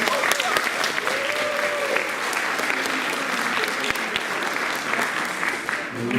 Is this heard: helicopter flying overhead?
no